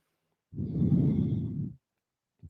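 One long, loud breath pushed out forcefully through the mouth during a vinyasa power yoga class, lasting about a second, then a short second breath begins just before the end.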